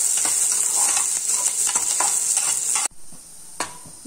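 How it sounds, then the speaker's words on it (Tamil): Onions sizzle loudly as they fry in ghee toward golden brown, a dense, bright frying hiss with scattered spatter, broken by a sudden quieter stretch near the end with one more clink. "வெங்காயத்தில் பாதி வெங்காயம் அதில் பொரிச்சிடலாம்"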